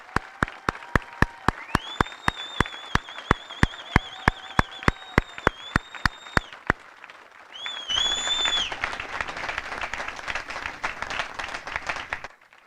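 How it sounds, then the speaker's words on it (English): An audience at a basic camp graduation for cadets breaks into a broad wave of applause after a long run of evenly spaced, sharp rhythmic claps with sustained tonal sounds; the clapping swells and then fades. "I'd ask that you join me in a round of applause for these graduates"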